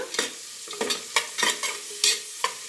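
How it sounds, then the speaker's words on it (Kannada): Onions frying and being stirred in a pan for a mutton head curry, with rhythmic scraping strokes over a steady sizzle, close and fairly loud, no talking. "ಈರುಳ್ಳಿನ ಚೆನ್ನಾಗಿ ಫ್ರೈ ಮಾಡ್ಕೊಂಡೋಣ"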